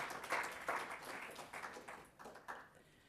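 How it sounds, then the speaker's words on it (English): Audience applause for a trio of musicians at a public library's 175th city birthday celebration in Iowa City: faint, fairly distant clapping in uneven bursts that thin out toward the end, with no talk. "Let's have another round of applause for our musicians, Guy Drollinger, Dave Hicks, and Mike Haverk"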